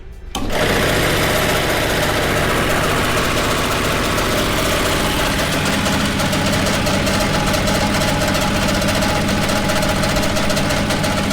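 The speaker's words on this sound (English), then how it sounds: "We're gonna go ahead and turn it on." An Oliver No. 173 direct-drive jig saw, an old machine with a tilting table and foot brake, starts up and runs with a steady, loud mechanical hum and rapid reciprocating chatter that holds evenly throughout.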